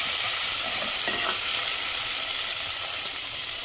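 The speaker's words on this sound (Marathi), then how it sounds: "टोमॅटो आपण ॲड करून घेऊया." Tomatoes tossed into a hot pan while cooking chana bhaji, a bright steady sizzle with soft stirring scrapes, close and fairly loud, and no voices.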